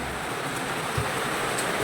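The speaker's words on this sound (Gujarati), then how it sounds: "તો એકદમ વરસાદ ચાલુ થઈ ગયો છે બહાર" Steady rain hisses softly outdoors, an even wash of patter with a faint thump or two and no voices.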